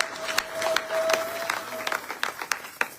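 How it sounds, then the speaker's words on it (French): A church congregation applauding during a Bible seminar, with a burst of irregular hand claps and scattered crowd noise under a faint steady tone. "Acclamons pour la gloire de Dieu"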